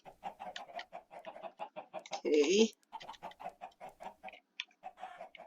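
Chickens in the Dwarven Kingdom video game cluck in quick repeated bursts, a steady pecking rhythm of short calls with one louder squawk midway, fairly close, while a voice says a word briefly.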